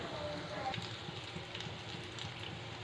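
Potato cheese balls fry in a pan of hot oil, a steady soft crackle and sizzle with light popping, close by and fairly quiet throughout.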